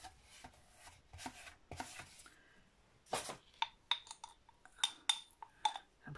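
Scraping and clinking from a glue pot as a brush or spatula is worked against its sides. The sounds come as close, sharp, irregular bursts with pauses between them, and no one speaks.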